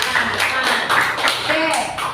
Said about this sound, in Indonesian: berikan tepuk tangan kepada kelompok kedua